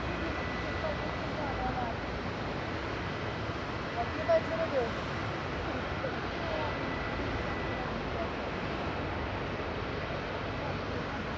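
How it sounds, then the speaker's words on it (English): Falcon jet aircraft approaching on downwind at Madeira Island Airport, a steady distant engine roar under wind with faint voices. "looks like it's the Falcon coming on downwind"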